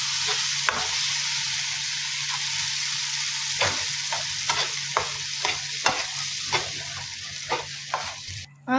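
Ground tomato paste and spiced masala stirred and frying in a pan for chicken changezi, a steady sizzle punctuated by repeated scraping strokes of a spoon, close and fairly loud with no talking.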